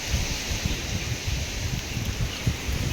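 Strong wind blows through a village during unseasonal rain, a steady, close roar with gusty low buffeting against the microphone and a faint rustle of leaves.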